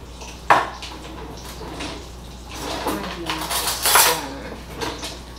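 A spatula scrapes and mixes food in a cooking pot in a home kitchen, with irregular metallic clinks and scraping strokes, fairly close, amid kitchen clatter.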